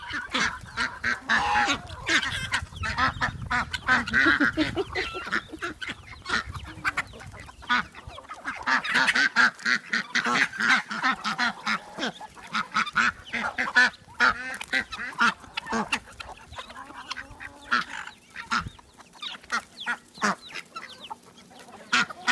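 A flock of guinea fowl approaches with harsh, rapid cackling calls repeated almost nonstop, loud and close, in an outdoor yard.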